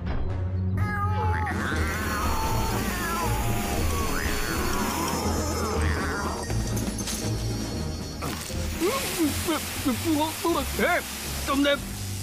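Cartoon cats meowing in several rising, wavering cries over busy background music and effects, with a cluster of short mews near the end.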